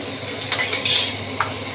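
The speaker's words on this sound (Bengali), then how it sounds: "আমি এটাকে ভাজছি তেলটাকে" Fish oil frying in a pan on a Bengali home stove, stirred with a utensil: a steady close sizzle with scraping and light metal clinks from the stirring, no talk.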